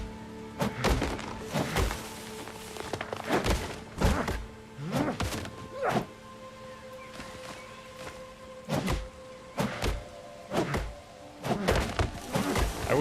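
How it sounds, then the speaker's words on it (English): Axe chops on trees in a pirate-ship survival game, a series of loud single wooden thunks at uneven intervals, sometimes in quick pairs, against a quiet hum. "I look forward to getting a better axe to just chop these down faster"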